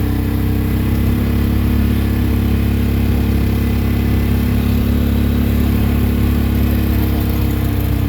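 A mini go kart engine drones loudly and constantly while driving on bumpy sandy trails, a steady close-up rumble with no pauses.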